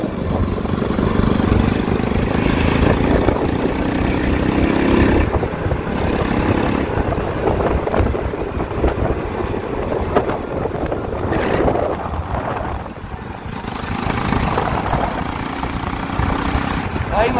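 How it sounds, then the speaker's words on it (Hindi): A modified Bajaj Pulsar NS200 motorcycle rides along, its engine droning steadily through strong wind rush, with someone talking over it in places. "मजा आ जाता है यार बाइक चला के,"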